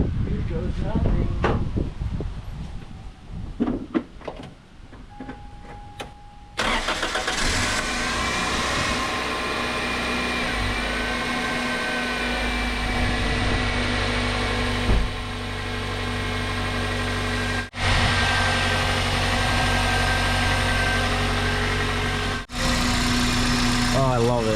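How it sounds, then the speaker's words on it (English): A 1999 Toyota Corolla fitted with a new intake cranks and catches, then settles into a loud, steady idle with a droning mechanical hum, with some talk early on. "that throttle, that induction noise is what I was going for"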